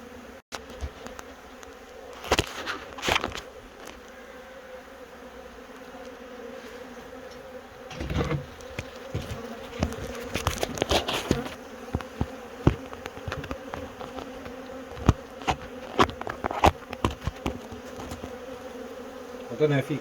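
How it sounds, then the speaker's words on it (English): A honey bee swarm at a bee house hums in a dense, continuous outdoor buzz, with individual bees zipping close past now and then and louder rustling bumps at times; no speech. "It's a nice size swarm."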